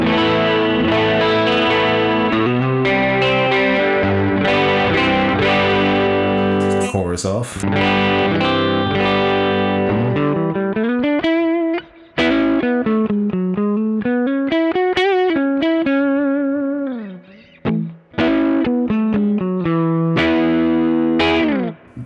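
Electric guitar on a Hagstrom Deuce F with both humbuckers: chords ringing out, then a lively melodic line with bends and slides, full and slightly driven, played alone.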